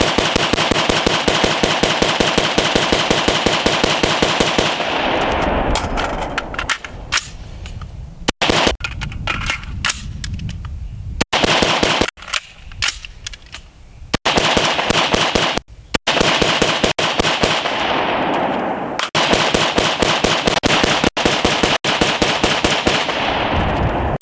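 A rifle fitted with a Lantac Enhanced Bolt Carrier Group fires a burn-down of sustained rapid automatic bursts, loud and close, each long string broken by brief pauses before the next; no talking.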